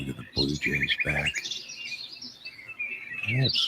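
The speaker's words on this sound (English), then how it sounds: "Oh, look at the Blue Jays back." Blue jays call near a winter bird feeder, harsh repeated chirps and squawks ringing out clearly over a quiet outdoor background, with a few low thumps in between.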